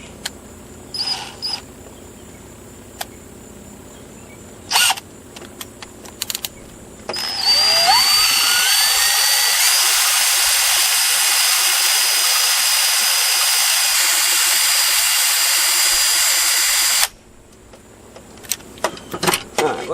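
A power drill spins a small Honda GX25 four-stroke weedeater engine's valve through an attached fuel line tube, whining loudly and steadily for about ten seconds after brief handling clicks, then stopping abruptly.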